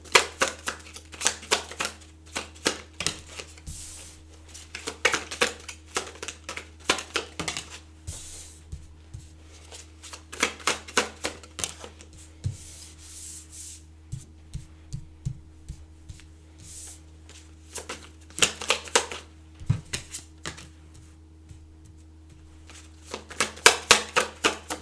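Tarot cards are shuffled in repeated bursts of quick riffling clicks and snaps, close and crisp, with short pauses between rounds.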